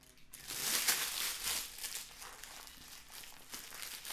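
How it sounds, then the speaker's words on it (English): Plastic wrapper on a jar of fudge crinkles and rustles right next to the microphone in close, irregular bursts of bright crackling that swell and fade across the few seconds. "No more rustling of plastic."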